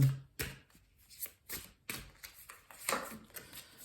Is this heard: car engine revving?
no